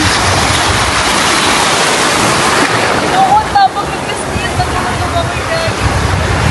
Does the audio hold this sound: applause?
no